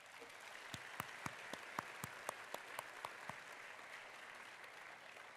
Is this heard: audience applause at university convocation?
yes